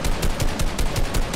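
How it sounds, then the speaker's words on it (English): Rapid video game gunfire in Fortnite as shots tear down a player's build, a dense fast rattle of repeated shots close and loud with no talking. "Okay, I'm shooting their build down."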